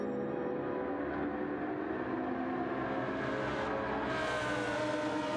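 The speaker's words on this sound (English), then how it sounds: "That Lamborghini just sounds incredible." A Lamborghini race car in a sim racing game at Interlagos holds a loud, steady, smooth engine drone for the whole stretch, with no voices over it.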